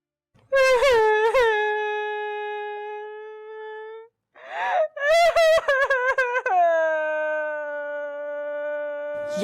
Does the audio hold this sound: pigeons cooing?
no